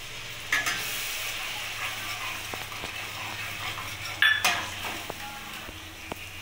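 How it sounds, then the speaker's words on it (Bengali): Spice masala with cashew paste for cauliflower korma is stirred in a pan, a soft steady sizzle with occasional scraping and clinks of a spoon against the metal. "এবার মশলাটাকে ভালো করে নাড়িয়ে নেব আমি"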